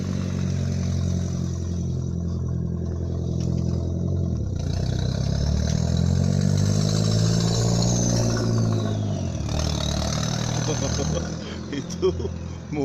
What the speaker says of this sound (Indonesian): itu mobil yang knalpotnya dicuri orang itu pasti suaranya sampai segitu